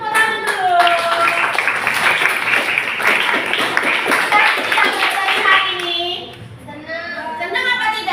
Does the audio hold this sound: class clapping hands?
yes